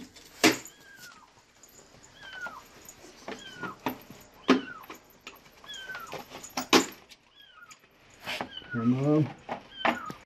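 A trapped black-and-white kitten meows from inside a pipe in a wall, giving several short high cries spread through the clip, with people talking nearby and a louder burst near the end.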